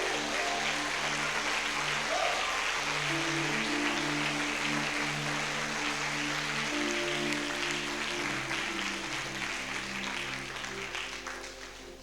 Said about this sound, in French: On acclame le Seigneur Jésus. Acclame plus fort que ça.